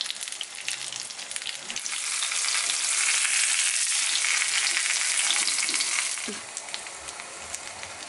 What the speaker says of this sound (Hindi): इसमें अब हम बैंगन रखेंगे पकने के लिए।